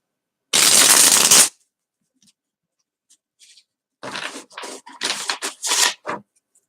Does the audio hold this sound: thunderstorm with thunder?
no